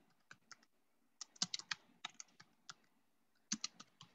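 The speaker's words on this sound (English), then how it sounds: "Obviously, I did not take typing in school." Typing on a computer keyboard in irregular bursts of sharp, close clicks and taps with short pauses between, quiet and alone.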